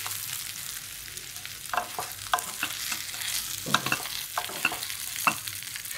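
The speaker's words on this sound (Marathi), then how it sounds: "आता आपण केलेल्या ह्या वड्या टाकून घ्यायच्या. हलक्या हाताने परतून घ्यायच्या." Sorghum (jowar) vadis being sautéed in a pan, with steady frying sizzle and repeated spatula scrapes and taps against the pan, close and clear with no talking.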